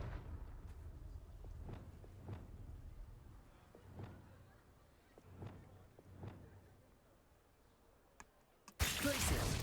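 Confringo fire spell blasts in Hogwarts Legacy, several quiet thumping bursts spaced a second or so apart over a low background, followed by a sudden loud wash of noise at the end.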